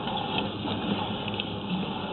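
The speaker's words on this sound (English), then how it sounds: "It's hard to see with the hot water running." Hot water rushes steadily through a sewer line at a building, giving a continuous gushing, hissing flow with no pauses.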